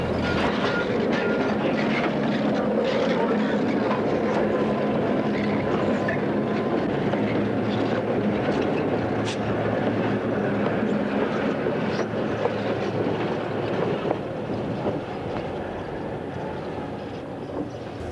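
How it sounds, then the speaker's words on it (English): A Bangor and Aroostook snow plow train rolls east out of the Millinocket yard in Maine snow, a steady loud diesel drone with rail rumble and clatter, sustained and close with no talk. "At the Millinocket yard, the Bangor and Aroostook plow is heading east out of the yard."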